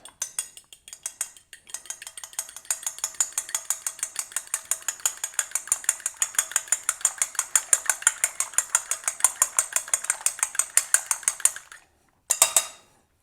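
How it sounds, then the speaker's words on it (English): Egg beaten with a fork in a bowl, a long run of rapid, even metallic clicks against the dish, close and fairly loud, pausing briefly before one last short burst. "We need to beat the egg a little bit. Use a fork for that."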